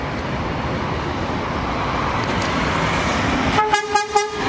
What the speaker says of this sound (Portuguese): Valeu a buzinaça Itapemirim aí, ó!